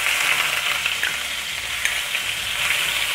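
Grated onion sizzles in hot oil with golden-browned cumin seeds over low flame, giving a steady bright hiss with soft crackles and faint stirring, close and continuous with no talking.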